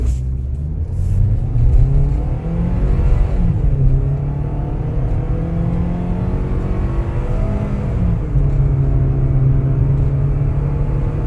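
A Suzuki Fronx engine revs with the accelerator and brake held together, producing a loud, steady droning rumble from inside the car. The pitch rises and dips slightly while the revs are held.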